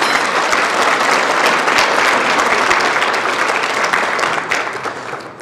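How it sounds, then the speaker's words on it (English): An audience at a State of the City address gives a round of applause for elected officials: loud, dense, sustained clapping from a large crowd that tapers slightly at the end. "Please join me in a round of applause for our elected officials."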